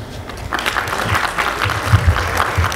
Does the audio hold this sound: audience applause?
yes